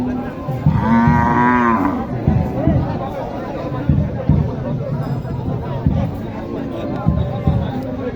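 A cow gives one drawn-out moo nearby at a cattle market in Naogaon, Bangladesh, while a crowd chatters and people talk over the background hubbub.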